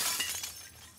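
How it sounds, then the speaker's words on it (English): A vending machine's glass front smashes in The Last of Us Part II, a brief, faint, bright shatter that tinkles away within a second. "We just fucking broke a vending machine to get the snacks from inside"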